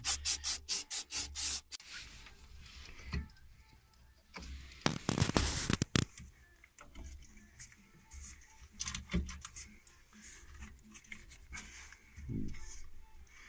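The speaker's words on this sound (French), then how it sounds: "Avec le mouchoir dedans, quand je vais le sortir, s'il y a des cocos, je vais aussi sortir cette limaille." A tissue pulled through a copper pipe on a heat pump during a compressor replacement, with metal filings inside, giving rubbing, scraping friction sounds in uneven bursts, a rapid rhythmic series at the start, then louder scrapes and quieter rustling.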